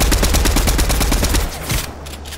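Rapid automatic gunfire in a shooter video game, a fast burst of loud repeated shots lasting about a second and a half, followed by a couple of fainter trailing shots.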